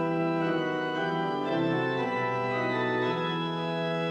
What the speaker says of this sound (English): Perhaps the most famous are the diapasons,